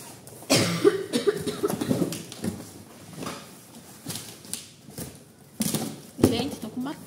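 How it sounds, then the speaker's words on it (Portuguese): Several harsh coughs burst out in short bursts, loud and close, from a woman with a bad cough, with quieter rustling and handling sounds between them. "tô com uma tosse horrível"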